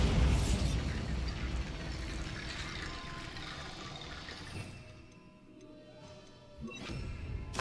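A Bombarda explosion spell cast in the video game Hogwarts Legacy, a loud booming blast with a rumbling tail that fades out, then a fresh rush of sound at the end.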